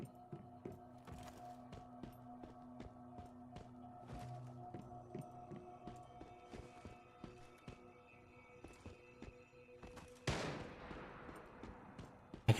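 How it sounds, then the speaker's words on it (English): Enemy gunfire in the shooter game Once Human, with sharp shots in scattered bursts throughout, moderately close under steady game ambience, and a louder blast near the end. "I can hear him shooting."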